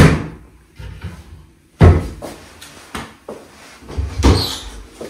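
Cupboard doors in an unfurnished UK house bang and click open and shut several times, sharp close knocks separated by quiet gaps.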